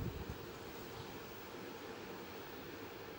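Steady, roaring wind buffeting the microphone, a continuous broadband rush with low rumbling gusts and no voices.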